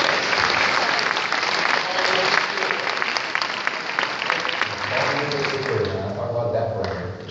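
An audience gives a big round of applause, dense clapping that carries on and thins toward the end as a voice begins talking over it.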